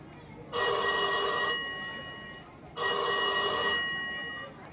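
A telephone bell rings twice, each loud, bright ring lasting about a second with a pause between, and no other sound around it.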